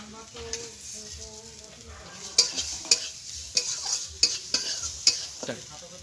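Ingredients with turmeric fry in a pan for an oat dish, a soft sizzle joined after a few seconds by repeated loud scrapes and knocks of a utensil stirring against the metal, close and with no talk.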